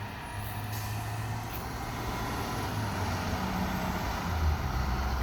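A school bus rumbles at low speed in a residential neighborhood, crossing a speed bump with a steady diesel drone, a faint air-brake hiss, and distant road noise.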